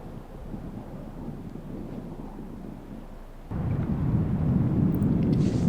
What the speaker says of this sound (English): The wind has really picked up here.